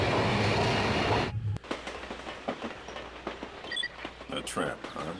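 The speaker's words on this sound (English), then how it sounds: "Oh no, the train's moving!" A subway train in The 3rd Birthday video game lurches into motion, a loud steady rumble for the first second or so giving way to softer rattling and clacking from the carriage, with faint game sounds layered under it.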